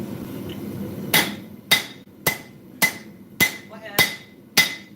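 A small peen hammer shapes a metal rose for garden art, seven sharp ringing metallic strikes at a steady, roughly half-second rhythm, close and clear over a faint background hum.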